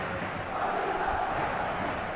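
A stadium crowd in an eFootball match roars as a steady, dense wall of noise at a moderate distance, with no clear individual voices.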